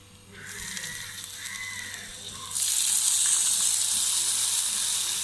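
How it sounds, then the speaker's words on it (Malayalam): Two teaspoons of sugar with two tablespoons of water heat in a pan while making onion payasam, giving a steady hiss and sizzle. It grows louder and brighter about halfway through and then holds, with no talk. "പഞ്ചസാര ഒന്ന് കാരമലൈസ് ചെയ്തെടുക്കാൻ വേണ്ടിയിട്ടാണ് 2 ടീസ്പൂൺ പഞ്ചസാര ചേർക്കാം."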